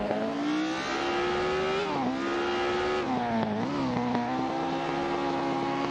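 1950s Formula 1 race cars in a racing video game hold a continuous, loud engine whine that shifts pitch up and down as they accelerate and ease off, with no voices.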